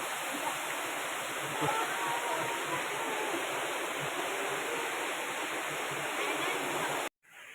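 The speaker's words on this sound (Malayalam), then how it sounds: "അങ്ങനെ വെള്ളച്ചാട്ടം കണ്ടു" Steady roar of a waterfall, loud and continuous broadband rush that cuts off abruptly near the end.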